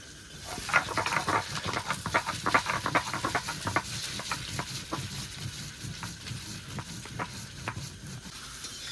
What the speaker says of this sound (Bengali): আলুটা ভাজা হয়ে গেছে এবার আলুটা নামিয়ে নেব